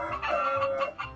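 A chicken in modded Minecraft makes a quick run of close, fairly loud clucks over roughly a second, with no talk.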